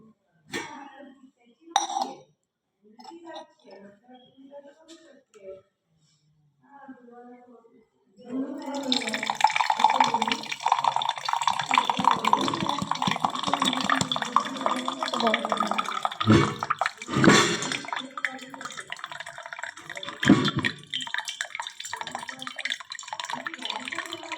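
Water drawn from a clay pot (matka) in a home kitchen in the evening: a few soft clinks and quiet pauses, then a sustained close splashing pour that lasts to the end, with a voice heard faintly near the start.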